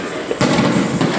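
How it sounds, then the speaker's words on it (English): Fourth of July firecrackers burst in quick succession nearby, sharp cracks over a noisy background. "Light up some firecrackers as well."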